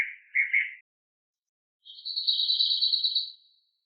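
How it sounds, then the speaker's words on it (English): Birds in a forest give two separate chirping calls, a brief high twitter followed after a pause by a longer, sustained trill, heard alone against silence. "Birds live here."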